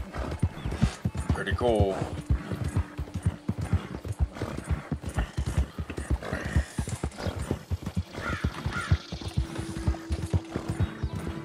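Horse hooves clip-clop in a steady, quick rhythm while riding in Red Dead Redemption 2, continuous and fairly close, with a whinny early on and someone talking over the hoofbeats.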